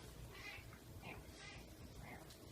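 A cat meows several times, faint, drawn-out cries spread across a steady low background hum.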